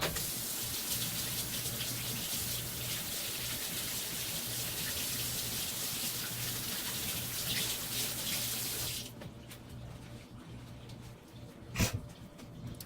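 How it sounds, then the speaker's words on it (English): Water runs from a faucet as hands are rinsed after acrylic paint pouring, a steady close splashing hiss that stops around nine seconds, followed by quieter handling noises and a brief clatter. "I'm gonna rinse my hands real quick."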